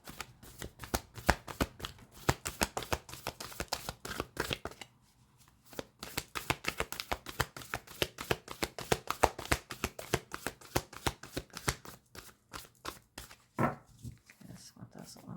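Tarot cards riffle and shuffle in a dense, rapid patter of close papery clicks, pausing briefly partway through before resuming, as a deck is mixed to draw a single card.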